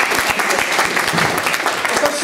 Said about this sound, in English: please give her a round of applause to kick things off